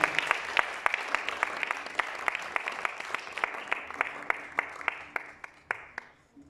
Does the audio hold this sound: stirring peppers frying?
no